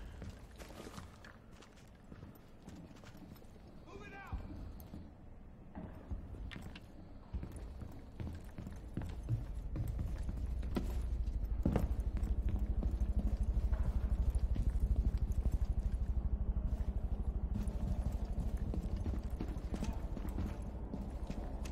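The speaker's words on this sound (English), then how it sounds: "I hear footsteps." Footsteps in the tactical shooter Rainbow Six Siege, a steady run of hoof-like clopping steps that grows louder and nearer over about twenty seconds under a constant low rumble of game ambience.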